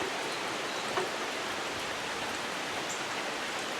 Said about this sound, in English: it's raining a lot harder now